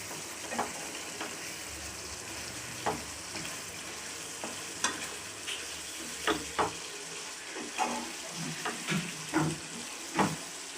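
Garlic chilli chicken simmers and sizzles in a pan under a soft, continuous bubbling bed, broken by scattered scraping stirs and clinks of a utensil at close range.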